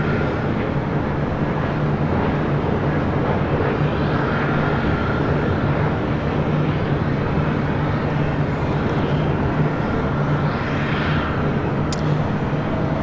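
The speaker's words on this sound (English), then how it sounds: "WestJet Flight 1514 coming in from Calgary, a 737-700 next arrival" A WestJet Boeing 737-700 arriving at LAX from Calgary produces a steady, loud jet roar with a constant low engine hum lasting throughout, with no voices.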